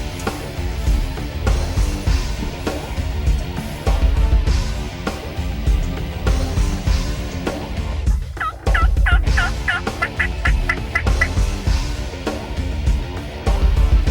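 A wild turkey gobbles during a spring turkey hunt, a rapid rattling burst of gobbles cutting through steady loud background sound in the middle of the stretch.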